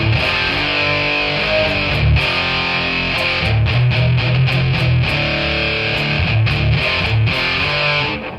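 Electric guitar played through a Soldano SLO Super Lead Overdrive pedal with rich reverb, a continuous distorted stream of picked notes and chords, loud and steady throughout with no talking.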